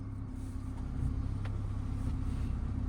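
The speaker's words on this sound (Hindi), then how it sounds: "चलो वापस क्लच दबा के इंजन ऑन करो।" A manual geared car's engine idles steadily after being started with the clutch pressed, a low, even rumble with a faint steady hum, close and uninterrupted by speech.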